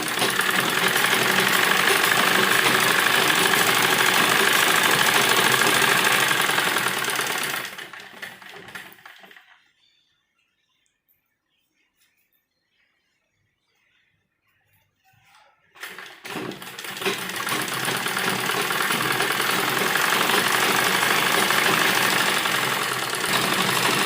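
A sewing machine runs loud and close, stitching the folded bottom hem of a frock in a steady mechanical whir. It stops for several seconds of silence, then resumes just as steadily.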